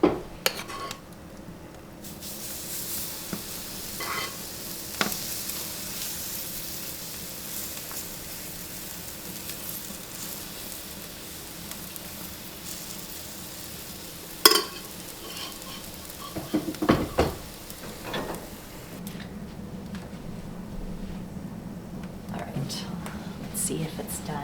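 Sourdough batter cooking in a pan greased with olive oil spray, a soft steady sizzle throughout with occasional clinks of utensils and brief scraping, a quiet voice now and then.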